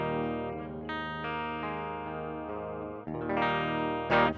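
A guitar is played straight through an audio interface into Logic with the amp plugin bypassed. Sustained strummed chords ring steadily for a few seconds with a brief change near the end, and no one speaks.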